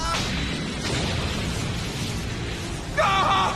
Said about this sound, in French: propulsé dans les airs par cette explosion